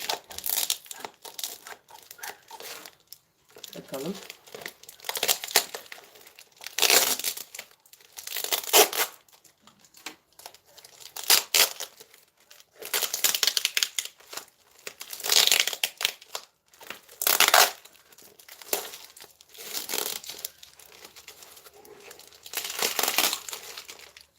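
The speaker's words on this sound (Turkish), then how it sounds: "Dış bantını keseyim." Packing tape is cut and a mail-order parcel of fuchsia plants is unwrapped, giving bursts of crinkling, tearing plastic and paper in uneven clusters with short pauses between, close and fairly loud, with no talk over them.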